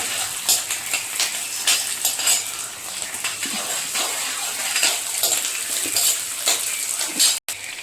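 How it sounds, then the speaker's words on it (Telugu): Onion, green chilli and freshly grated raw coconut fry together for a chutney, giving a loud, continuous sizzle with frequent spatula scraping and clattering against the pan and a brief dropout near the end. "ఆనియన్ అన్ను గ్రీన్ చిల్లీ వేగుతున్నాయి కదా ఇప్పుడే మనం ఈ కొబ్బరి పచ్చి కొబ్బరి కూడా వేసేసుకోవాలి అది కూడా వేగాలి బాగా"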